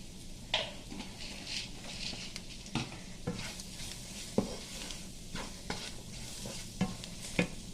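Black pepper frying in a pan while being stirred for a restaurant-style mutton masala, with soft sizzling beneath irregular spoon scrapes and clinks against the pan, close but quiet, no speech.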